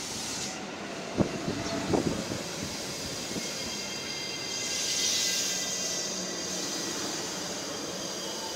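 A down local train departs a Japanese rural station, its wheels clunking over rail joints at first and then settling into a steady rolling rumble with faint squeal, moderately near and fading slowly.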